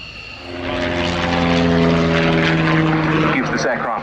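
A de Havilland Chipmunk, a piston-engined propeller trainer, flies past at an airshow with a steady, loud droning engine and strong harmonic hum that swells after the first half second, while a commentator talks over it.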